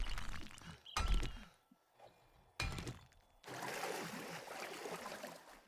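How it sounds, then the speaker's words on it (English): Water sloshing in the 7 Days To Die Alpha 18 co-op survival game, heard as bursts of rushing, splashing noise broken by short quiet gaps and a few thumps, ending in a longer steady wash. "I can hear water sloshing around still"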